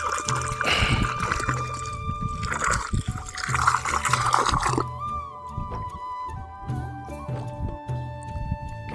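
Water gurgling and bubbling as it fills a pipe during solar fence installation on farmland, a close trickling burble that settles into quieter drips and tones.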